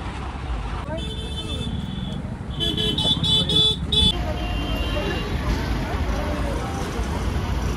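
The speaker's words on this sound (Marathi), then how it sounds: "मित्रांनो बघू शकता जाम ट्रॅफिक आहे" Stuck in a traffic jam aboard a bus on the road home from Pandharpur, with idling engines rumbling around and a burst of car horns honking in quick succession, while people talk nearby.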